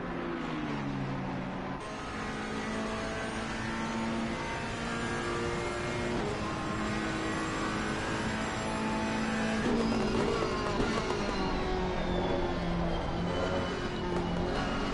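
A Ferrari and an Aston Martin race car lapping Monza in a racing game, engines droning steadily with rising and falling pitch as gears shift, one car's note layered over another's.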